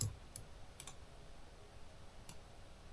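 A computer mouse gives a few faint, separate clicks, one pair close together and a single one later, against a quiet background hum.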